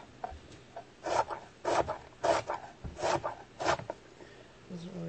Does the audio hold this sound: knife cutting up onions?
yes